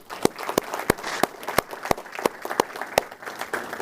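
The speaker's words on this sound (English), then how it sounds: "round of applause for those 2" A crowd at a Homeland Security awards ceremony applauds, with loud, evenly spaced sharp claps standing out from a softer bed of scattered clapping across the whole stretch.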